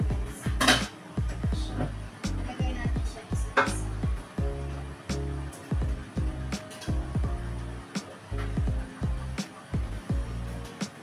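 A frying pan being washed to remove oil, with repeated clattering knocks and scraping of metal cookware in a steady rhythm, close and fairly quiet, under occasional talk.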